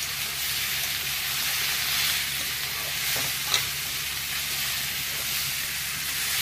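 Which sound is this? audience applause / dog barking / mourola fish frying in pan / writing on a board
mourola fish frying in pan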